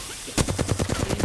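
Rapid automatic gunfire in the Apex Legends video game, a fast burst of evenly spaced shots that starts abruptly and runs to the end, loud and close.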